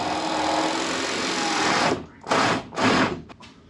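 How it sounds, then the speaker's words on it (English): Power drill boring a hole from outside through the wall of a Ford F-550 truck camper, a steady close whirring run for about two seconds, then stopping and restarting in two short bursts and a brief final blip. "I think it's a good idea to drill a hole from the outside"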